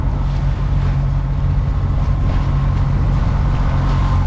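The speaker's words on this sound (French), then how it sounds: "Donc vous entendez le moteur" A sailboat's engine runs steadily while motoring at about five knots, a continuous low droning hum with wind rushing over the microphone throughout, no voices.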